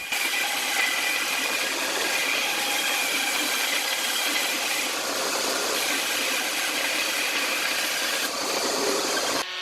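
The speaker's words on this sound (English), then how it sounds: "The battens were cut to the desired width on the bandsaw." A bandsaw ripping wooden battens to width for boat rubbing strakes, a loud continuous whining cut that holds steady and close for the whole stretch, with no voices.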